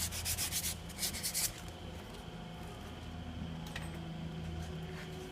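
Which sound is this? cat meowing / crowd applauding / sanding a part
sanding a part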